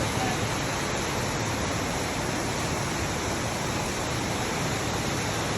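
A huge waterfall in a gorge roars nearby in a constant, dense rushing hiss of falling water, steady and unbroken throughout.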